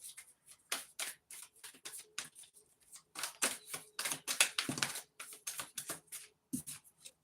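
Tarot cards being shuffled by hand, a run of quick papery riffles and soft slaps in irregular bursts, close and fairly quiet, with no talking.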